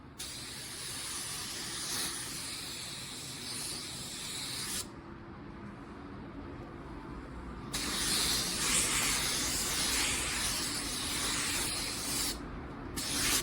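A spray gun paints a car bumper in long bursts of hissing spray that start and stop: a steady blast, a quieter pause, then another long spray and a short final burst.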